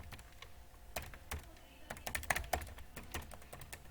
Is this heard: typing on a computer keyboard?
yes